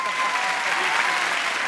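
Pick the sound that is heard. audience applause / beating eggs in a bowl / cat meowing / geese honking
audience applause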